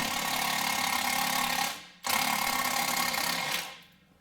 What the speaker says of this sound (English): Let's see if we can get this off using our bigger Milwaukee gun